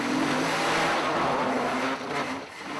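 A car weaves fast through city streets with a steady, loud engine roar and a droning tone, close up and continuous, dipping briefly before picking up again.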